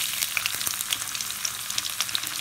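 Garlic and cumin seeds frying in hot cooking oil for aloo palak, a close, bright crackling sizzle with dense little pops throughout, steady and without any voice.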